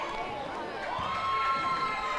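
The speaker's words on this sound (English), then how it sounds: "Good crowd ambiance." Crowd noise at a Guthrie versus El Reno high school basketball game, a steady, fairly loud wash of cheering and chatter from the stands that swells slightly toward the end.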